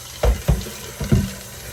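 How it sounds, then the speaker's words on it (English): Water gushes into a pot of peas set to soak, in a few short, splashy bursts that start and stop, fairly close with no talk over them. "Put some water in here."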